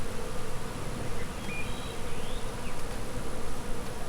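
Carniolan honey bees hum in a steady, dense drone from an open hive, close and constant throughout with no voices.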